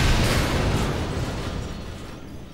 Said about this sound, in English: And that's a grenade.